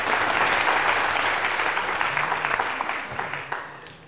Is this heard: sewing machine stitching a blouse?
no